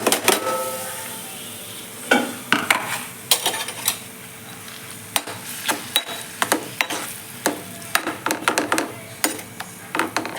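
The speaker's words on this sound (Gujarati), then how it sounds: "આ જો ડુંગળી ટમેટા સતરાઈ ગયું છે ચીલી સોસ નખાઈ ગયો છે" Onion and tomato cooking in oil in a pan for pasta, with chilli sauce added, giving a steady hiss under repeated sharp clatters and scrapes of a utensil against the pan, close and fairly loud, no talking.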